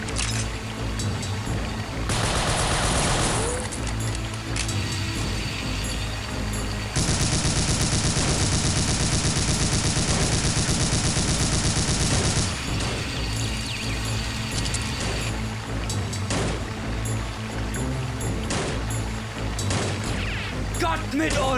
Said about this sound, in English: Who taught these Germans to shoot so good?